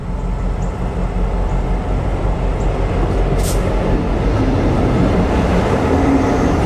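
A locomotive rolling toward the listener at about 20 mph with no horn or bell, a loud continuous low rumble and rail roar that holds steady throughout, with no talk.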